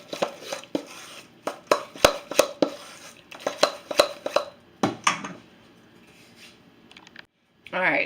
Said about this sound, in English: And then you're gonna want to stir that properly.